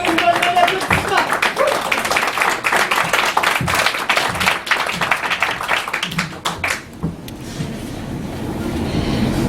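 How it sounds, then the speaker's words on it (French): Audience applause and clapping at a slam poetry session in a Montréal bar, dense and steady for several seconds before tapering off, with crowd noise and voices mixed in. "une bonne main d'applaudissements"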